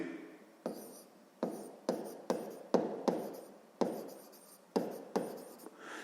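Pen writing out a sixth-grade math solution on paper, a series of about a dozen sharp, close strokes in an irregular rhythm with brief pauses between them.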